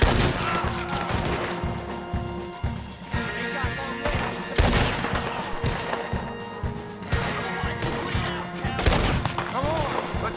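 Gunfire in Red Dead Redemption 2, a dense run of loud close shots and booming blasts repeating in quick irregular bursts over a busy game background.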